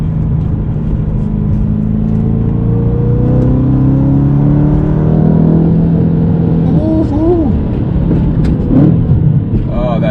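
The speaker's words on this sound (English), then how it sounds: "Oh, that downshift is phenomenal." BMW M3 E92 engine revving and downshifting, a loud steady rumble and growl whose pitch climbs and drops with blips near the end, heard from inside the car with a voice talking over it.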